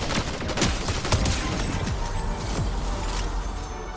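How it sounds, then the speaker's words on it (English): Wrecker pistol fire in Fortnite: a quick burst of sharp shots cracks out over the first two seconds, followed by scattered impacts and a busy rumbling game mix, with no talk. "grab the old pistol, the old Wrecker pistol"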